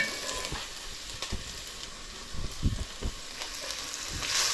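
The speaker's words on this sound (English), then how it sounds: "Just going to finish sauteing these onions." Onions saute in a hot pan for beef mince meatballs, giving a close, steady frying sizzle with occasional crackles and stirring scrapes, no talking.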